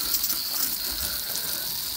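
A hissing spray of liquid hits a crashed car's part during cleaning, a steady close sputtering wash lasting about two seconds with no pauses.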